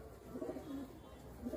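A Pakistani Teddy pigeon gives soft, low coos in short bursts, faint and close, with a brief pause between calls.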